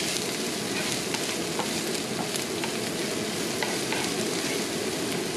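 Tostadas toasting in a hot pan, a dense continuous sizzle and hiss with faint crackles, steady and close with no talking.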